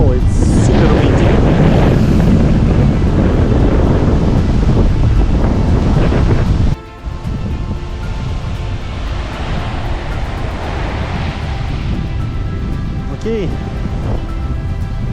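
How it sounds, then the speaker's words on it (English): Hurricane wind roars hard over the shore on the Riviera Maya near Cancun, with crashing surf close to a building, a dense continuous blast buffeting the microphone throughout while a person talks over it. "it's really windy and huge waves, especially for this place."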